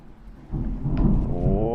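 A deep rumble of thunder in Super Mario Odyssey rolls in suddenly and holds steady, loud and close, with a voice speaking over the end.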